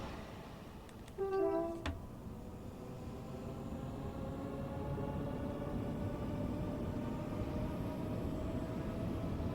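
A Class 710 Aventra electric train departing on the West Coast Main Line in Train Sim World 5, a two-tone horn-like chime at the start followed by a steadily rising motor hum and rolling rumble, with no talking.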